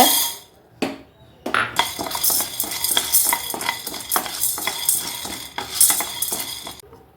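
White beans are stirred and scraped around a dry pan as they roast, with repeated metallic clinks and rustling in an irregular rhythm, close up.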